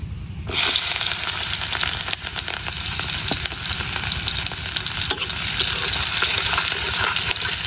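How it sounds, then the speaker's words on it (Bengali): Onions sizzle loudly in hot oil left over from frying small river puti fish, a dense continuous crackle with stirring scrapes, close and steady after a brief quiet start. "এখন মাছ ভাজার তেলের মধ্যে দিয়ে দিতেছি পেঁয়াজ"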